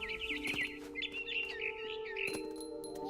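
Small songbird chirps and tweets in The Remains of Edith Finch, a run of quick high chirps repeating over steady game ambience with a low tonal hum, fairly close and clear.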